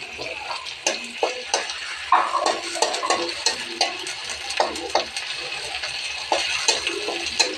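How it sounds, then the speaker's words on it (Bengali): Gandal leaves fry in a pan under frequent stirring, with soft sizzle and rhythmic spatula scrapes and clinks, close up and moderately quiet. "এই যে গাঁদালটা একটু ভেজে নিন, তাহলে গন্ধটা কেটে যাবে।"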